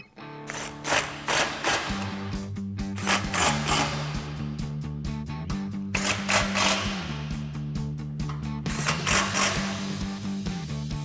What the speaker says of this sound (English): Now we'll come back and tighten these down with our 5mm Allen socket.